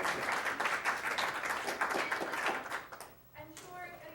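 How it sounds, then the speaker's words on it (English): Audience applause from a seated crowd after a talk, a dense steady patter of many hands for about three seconds that then thins and fades, with a voice breaking in near the end. "So we can give Teresa a round of applause."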